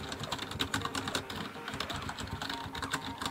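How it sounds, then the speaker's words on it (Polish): Fast, continuous typing on a budget gaming membrane keyboard: soft, muffled keypresses in a busy, uneven rhythm, close up and without speech. "Klawiatura brzmi jak standardowa membranówka, ani ciszej, ani głośniej."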